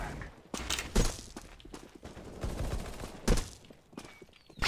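Gunfire in the game CS:GO: several sharp bursts and single shots crack out over a few seconds with thuds and footsteps between them, loud and close with no speech.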